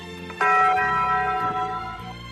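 A single bell rings out loud and clear, with a sharp strike and a sustained ringing tone that slowly fades over about two seconds, heard alone with no talking.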